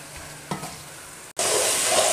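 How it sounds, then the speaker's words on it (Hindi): Chicken frying with tomato rings in a pan, a low sizzle broken by a scrape of stirring, then a brief dropout before the sizzle surges louder and brighter, steady and close, with no talk. "अब इसको अच्छी तरह से टमाटरों को भी हम मिक्स"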